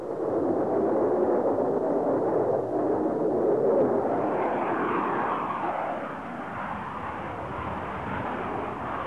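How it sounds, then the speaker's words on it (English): US Navy F-8 Crusader jet aircraft in flight, a loud sustained roaring engine rush that shifts in tone midway and eases slightly toward the end, with no talk. "Canberra pilots were stunned to find this new American aircraft making vertical"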